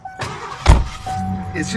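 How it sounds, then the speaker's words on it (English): Starter on a 1988 Ford Thunderbird, the old-style Ford type, cranks briefly with a mechanical whir and thump before the engine catches and settles into a steady idle, with people talking nearby. "Like I remember hearing that starter. Oh yeah, it's got the old Ford starter."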